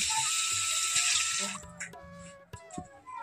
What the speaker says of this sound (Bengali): আর এখন আমি জল অ্যাড করব। তো তোমরা চাইলে কিন্তু এখানে গরম জল ব্যবহার করতে পারো, আমি ঠান্ডা জলই দিলাম।